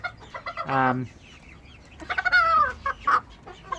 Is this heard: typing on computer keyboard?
no